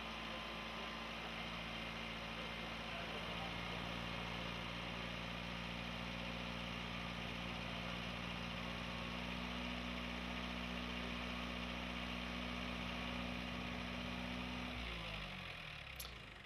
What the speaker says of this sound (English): I'll gradually increase the engine speed and carefully watch to see what the trip point